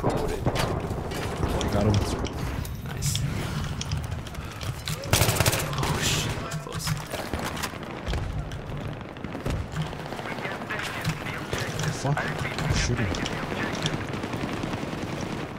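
Rapid bursts of FAMAS rifle fire mix with other gunfire and mechanical clatter during a Battlefield 3 firefight. The shots come loud and near in repeated volleys, with players talking over the action.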